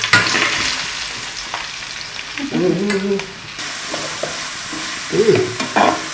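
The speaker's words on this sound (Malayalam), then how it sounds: "അതിന് ഉള്ളി വഴറ്റാണ്" Onions sautéing in a pan for a fish pollichathu (chempalli fish) fry, a steady sizzle with stirring scrapes throughout and a few brief tonal squeaks, close and moderately loud, no talking.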